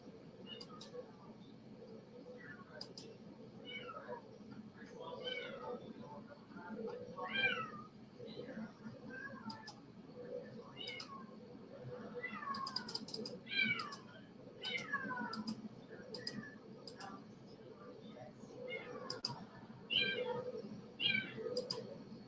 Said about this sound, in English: I wish that cat would shut up